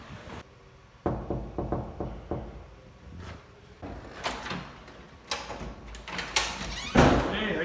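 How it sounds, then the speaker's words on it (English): Knocking on a congressman's office door: a short run of evenly spaced raps, followed by more scattered thuds and rattles of the door in a quiet hallway. "Okay, knock."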